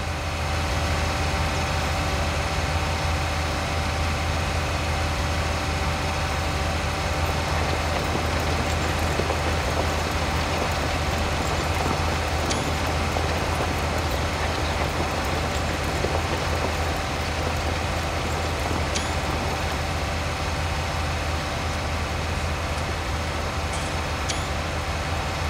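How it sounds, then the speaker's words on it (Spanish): Tractor engine in the farming video game Farming Simulator 19, a steady, loud droning rumble held constantly at an even level throughout, with no talk over it. "Amo este tractor, me gusta su potencia, su diseño, su sonido"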